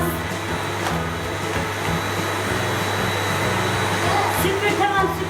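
An electric vacuum cleaner runs with a steady, loud motor whine and hum throughout a home cleaning session, while voices murmur faintly in the background.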